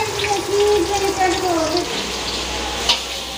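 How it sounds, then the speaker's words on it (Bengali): Spiced vegetables, five kinds coated in salt and turmeric, sizzle and spit in a hot pan, a steady close frying hiss with occasional stirring. Faint speech sits underneath. "চলো ভেজে নিই।"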